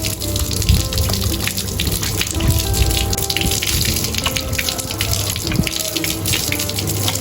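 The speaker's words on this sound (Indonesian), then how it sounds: "kita langsung bilas saja maskernya." Tap water runs steadily into a sink as a face mask is rinsed off, a continuous splashing gush that stays loud and close for the whole stretch.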